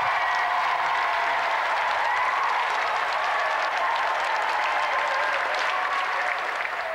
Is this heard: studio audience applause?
yes